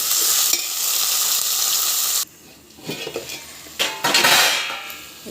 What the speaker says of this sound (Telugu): ఇవన్నీ కూడా వేసేసుకొని ఇప్పుడు అన్నీ ఫ్రై కానివ్వాలి. మంచిగా ఆయిల్లో ఉడకాలి.